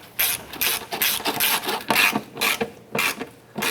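A ratchet wrench snugs down the purge valve mounting bolts on a 2005–2007 Ford Five Hundred, giving rapid close, loud clicking strokes in repeated short bursts.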